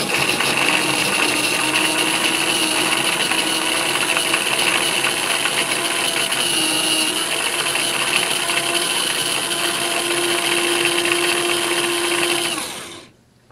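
A BNT mini cordless chopper whirs steadily as it minces garlic, a loud, continuous motor drone with a high whine that holds for the whole stretch before cutting off.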